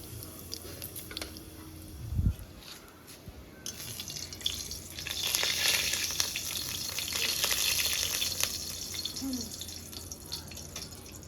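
Nigella seeds (kalo jira) sizzle in hot oil in a home kitchen where hilsa fish is being cooked; a single clunk comes first, then a steady, close frying hiss that swells and holds to the end with no talking.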